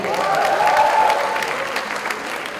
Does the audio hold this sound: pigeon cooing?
no